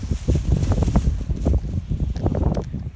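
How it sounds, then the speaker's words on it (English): Strong outdoor wind buffets the microphone in a garden with heavy, continuous low rumbling gusts that swell and fall throughout. "the audio is not going to be as good because of the massive amount of wind that we have"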